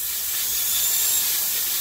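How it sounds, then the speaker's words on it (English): Compressed air hissing steadily as it is blown through a Chevrolet car air-conditioning refrigerant unit to flush out old oil and debris, a continuous close, bright rush of air with no voices. "So I'm using just compressed air. I'm gonna blow it through and then shoot out whatever oil,"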